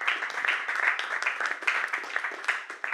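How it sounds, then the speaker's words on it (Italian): Applause from a studio audience at a televised sports talk show, a lively burst of clapping that swells and dips throughout, fairly close and loud, with no talk over it. "gli facciamo un applauso perché così impara"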